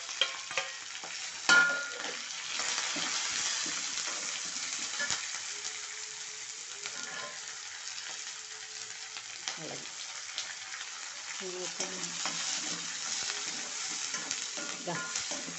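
Onion, green chili and curry leaves sauté in a pan after mustard seeds, chana dal and urad dal, with a steady close sizzle and repeated scraping stirs of a spoon.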